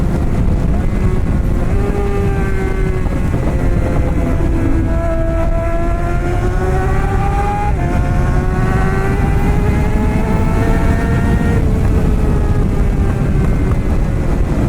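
Suzuki GSX-R 600 motorcycle ridden with its engine breaking up, a loud continuous engine roar with rising and falling revs and uneven pitch, heard close over steady wind noise.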